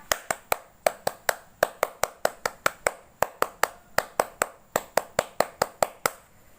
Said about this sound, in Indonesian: Oke kakak, 2 kali tepuk pramuka.